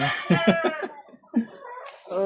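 A hen clucks before laying an egg, giving a run of loud, close, throaty clucks, a short pause, then a few more calls.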